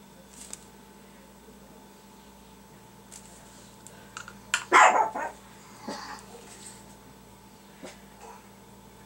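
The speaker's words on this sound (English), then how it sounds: "Barking at nothing." A dog barks in short bursts from a little distance, likely at squirrels outside, amid quiet indoor room noise with faint brush tapping, the barking rising briefly around the middle then tapering off.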